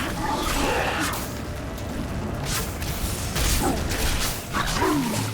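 Exploding dog minions in Diablo 3 as a Witch Doctor, heard as loud, dense game sound effects with yelps and mechanical crunches layered over a constant busy background.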